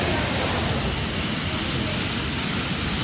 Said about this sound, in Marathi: मस्त धबधबा आहे बघा.